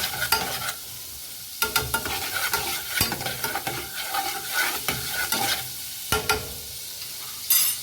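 Butter melting and sizzling in a pan while being stirred, a steady close frying hiss broken by sharp scraping strokes of a utensil, without any voices.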